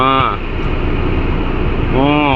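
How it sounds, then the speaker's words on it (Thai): Steady, even whoosh of the air conditioning blowing inside a 2017 Toyota Commuter van, with someone talking briefly at the start and again near the end. "แอร์เย็นเร็วไวมากครับ"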